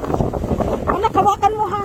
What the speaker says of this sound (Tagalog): Diyos ko ang hangin.